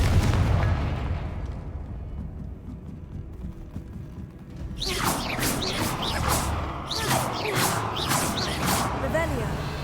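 Confringo fire-spell blasts in the video game Hogwarts Legacy: a rumbling stretch gives way to a volley of sharp, bright bursts and crackling booms about halfway through, loud and layered over steady game ambience.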